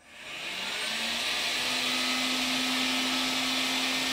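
Parkside PUV 2000 B1 electric weed burner switched on by its trigger, a blower whoosh rising quickly in the first half second, then a steady loud airy hum with a faint tonal whine.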